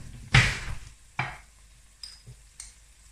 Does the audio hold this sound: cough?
no